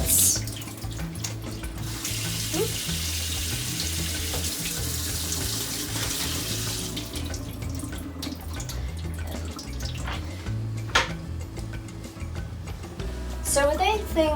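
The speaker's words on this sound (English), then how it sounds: "Give it a little rinse." Tap water runs over carrots in a slide-out kitchen colander, a steady rushing splash for several seconds that then stops, leaving drips and light handling clatter, with a voice talking over it.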